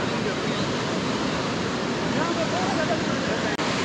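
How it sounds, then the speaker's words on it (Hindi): Loud, steady rushing water fills the air at Lake Saif ul Malook, a broad continuous roar heard close and alone. "इधर पानी का इतना शोर है कि आपको कुछ सुनाई नहीं।"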